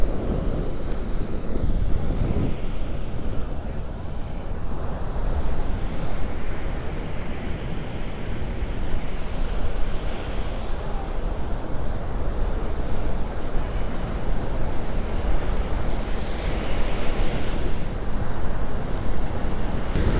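Steady wind buffets the microphone while surf rolls in at Bob Graham Beach on Florida's Treasure Coast, a continuous loud rushing with no voices.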